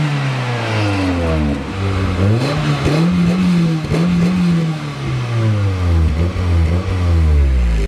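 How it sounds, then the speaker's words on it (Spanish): A Toyota Celica fitted with a homologated Don Silencioso final exhaust section revs up and down repeatedly, its engine note rising and falling, loud and close, with no voices. "instalar un tramo de escape final homologado para este coche de la marca Don Silencioso"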